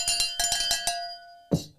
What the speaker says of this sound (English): on this channel, it's the notification cowbell